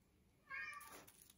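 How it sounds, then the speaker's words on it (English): A cat gives a single short meow in the background of a quiet indoor sewing room, faint and brief against low room noise. "not a cat, if you heard her meowing in the background, hello Puss Puss."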